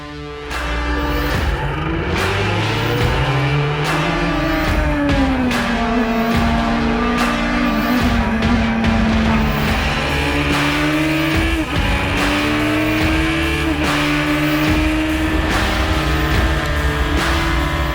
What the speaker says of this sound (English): The car was making consistent clean laps and wiping the track of every car in its way.